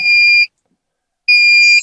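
Two loud, steady electronic buzzer tones from a car alarm system in a Suzuki Swift, each about half a second long, separated by a short silence.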